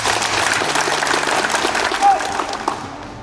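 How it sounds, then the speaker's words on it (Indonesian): At a leadership and character training session for BPR Central Artha staff, participants give a short, dense burst of applause for Hugo, with a voice heard faintly over the clapping. "tepuk tangan buat Hugo"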